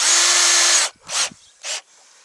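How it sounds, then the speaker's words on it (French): Power drill driving screws into pilot holes of a wooden ramp: one long whirring run of the drill, then two short bursts, close and loud. "vous n'avez plus qu'à placer vos vis sur les avant-trous et visser"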